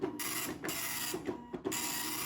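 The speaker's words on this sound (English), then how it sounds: "This is a Cieto 8510, here branded as the Apple dot matrix printer." A vintage Apple dot matrix printer, a rebadged C. Itoh 8510, printing at close range, its loud buzzing print head sweeping across in repeated passes with brief pauses and clicks between lines.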